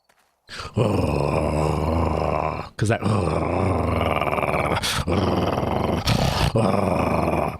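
A voice imitates the Chewbacca growl from Star Wars, rolling an R deep in the throat into a sustained, loud snarling groan in several long bursts separated by brief breaths.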